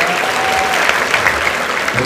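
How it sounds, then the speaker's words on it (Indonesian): Audience applause at a student discussion event in Solo, sustained energetic clapping from a crowd with a voice faintly under it. "Kasih tepuk tangan dong buat teman-teman."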